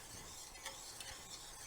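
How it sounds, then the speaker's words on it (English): Butter is stirred into hollandaise sauce in a pan, giving a soft, faint, continuous scraping swish with a few light clinks of the utensil. No voices are heard. "we're just going to stir that one more minute here until those last little pieces"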